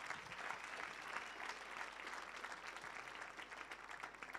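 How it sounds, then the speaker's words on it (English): Audience applause at a breakaway session of a pitching booster campaign, a dense, sustained clapping from a crowd that sounds somewhat distant and faint, steady throughout with no voices. "Can we please give all of them a round of applause?"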